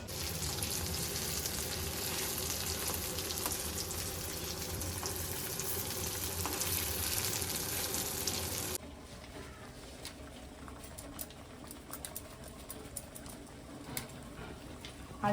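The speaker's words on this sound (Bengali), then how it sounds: "এখানে মশলাটা কষাচ্ছে" Spices for a paneer curry sautéing in a pan make a loud, dense frying hiss that drops to a quieter sizzle partway through, with occasional small pops and no talk.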